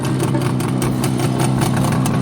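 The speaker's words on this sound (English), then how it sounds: "Grumpy riding his motorcycle" Grumpy's motorcycle engine runs steadily at a low, rumbling idle-like pitch, continuous and fairly loud with slight throttle pulses, no talking.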